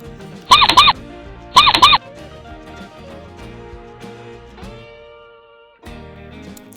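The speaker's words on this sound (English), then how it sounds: "Mouse." A mouse squeaks in two short, sharp bursts close together, each a quick cluster of high chirps, followed by quieter background sound and no talk.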